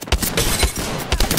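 Rapid bursts of automatic gunfire in the Apex Legends video game, loud and close, crackling shots in quick uneven clusters with no talking.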